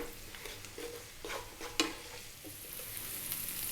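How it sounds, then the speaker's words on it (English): Spinach frying in a pan over medium heat, a steady close sizzle with occasional stirring scrapes and clicks, no voices. "all we're doing here is we're going to fry the spinach, get a bit of flavour on it"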